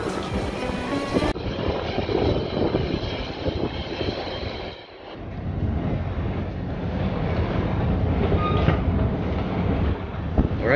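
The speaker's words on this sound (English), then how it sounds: "My university is in Harlem, which is about 30 minutes on the train." A New York commuter train rumbles steadily, a loud continuous roar of wheels and carriage noise with rattling and wind buffeting, briefly dipping midway before surging again, heard from inside or right beside the cars.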